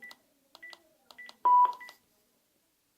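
A short run of Panasonic home phone keypad tones, single beeps spaced irregularly as a PIN is entered, followed by a louder longer tone, then silence.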